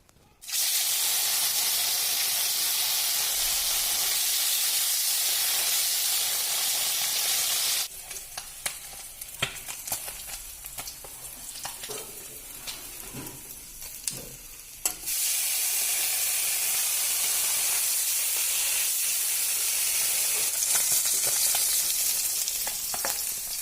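Fish pieces frying for dal in hot oil, a loud, steady sizzle that drops away for several seconds while the pan is stirred or shifted, then surges back at full strength, with no talk over it.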